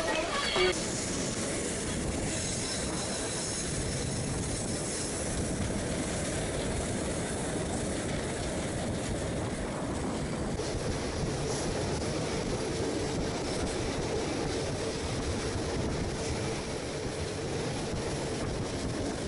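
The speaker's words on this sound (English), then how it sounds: "Here's the train." A passenger train on the Belo Horizonte to Vitoria line in Brazil rumbles steadily, a continuous dense rolling roar heard close from on board, with a voice speaking briefly.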